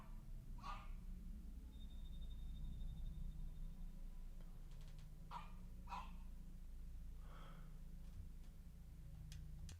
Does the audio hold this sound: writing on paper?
no